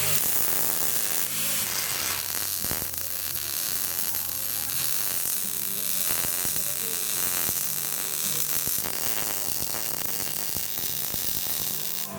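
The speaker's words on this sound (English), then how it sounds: "I'm gonna take this piece of 3/16 plate and weld up right there" Arc welding of 3/16-inch steel plate onto a Jeep XJ Cherokee over-the-axle track bar mount, a steady crackling sizzle with a faint electrical buzz running continuously throughout.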